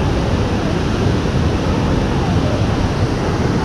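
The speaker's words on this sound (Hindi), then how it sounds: "वाटरफॉल हो रहा है, आप देख सकते हो" The Devkund waterfall in Maharashtra roars nearby as a dense, steady wash of rushing water noise, loud and unbroken throughout, with no voices.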